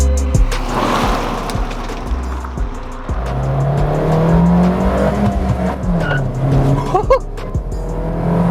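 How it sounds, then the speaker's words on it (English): A Suzuki Ciaz with a Stage 1 ECU remap drives hard, its engine droning and rising in pitch through the gears, with tire squeal and road noise loud and close. "I've taken the Ciaz out for a cheeky little run after the remap"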